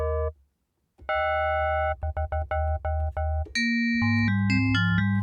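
A synthesized DOS-style bell patch being previewed, with clear electronic bell tones played as a short run of repeated notes and then a brief melodic phrase, bright and alone with no voices.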